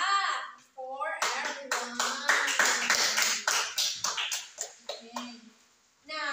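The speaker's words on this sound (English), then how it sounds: "Let's give a clap for" A group of students claps in a classroom, a burst of uneven handclaps lasting about four seconds, with a voice heard just before and after.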